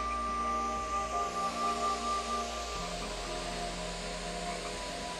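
A Relax Melodies sleep app on an iPad plays a soft, steady, hiss-like ambient wash with faint sustained tones underneath, quiet and even throughout.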